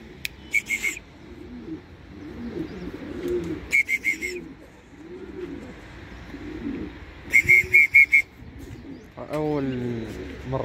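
Racing pigeons returning to the loft from a 60 km training flight, with soft cooing and bird calls, brief bursts of wing flapping, and a person talking in the background.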